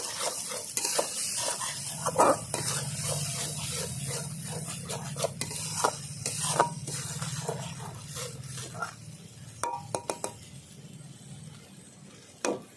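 Spice paste with turmeric and salt fries and is stirred for a village-style phesha fish curry: a low steady sizzle under repeated scraping and knocks of a spoon against the pot, close by.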